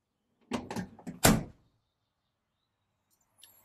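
A Mercedes Sprinter camper van's front cab door, newly lined with aluminium-butyl sound insulation, is shut in a few quick thumps followed by one heavy slam, close and solid, then silence with a faint tap near the end.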